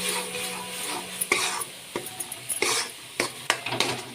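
Ground masala paste for a fish curry is fried on high heat in a pan, with soft sizzling broken by repeated scraping and stirring strokes of a spoon against the metal, close and unaccompanied by voices.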